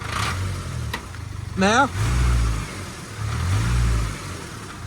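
Range Rover engine revs up in a short burst with a loud low rumble, then settles back to idle and swells again later, under a brief spoken word and other background noise.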